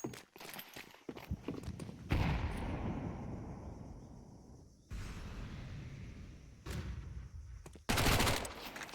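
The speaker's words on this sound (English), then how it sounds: "Shots from a distance." Bursts of gunfire from a Counter-Strike match ring out in a competitive esports game, sharp volleys separated by short lulls, some loud and some more distant.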